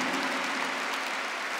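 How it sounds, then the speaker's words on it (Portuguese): A church congregation claps together in sustained, dense applause that fills the room evenly from start to end, with no speech over it. "Aplauda mais uma vez esse chamado que está aí do seu lado"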